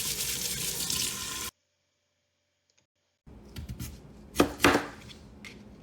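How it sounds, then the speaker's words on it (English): Sweet potatoes are chopped on a board with a handful of sharp, close knocks, following a stretch of running tap water and a silent gap; no voices. "Chop and weigh out the sweet potatoes."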